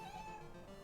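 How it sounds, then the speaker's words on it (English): A cat meows once, close and clear, a single brief cry with a slightly drawn-out tone. "Why are you swarming around me just meowing?"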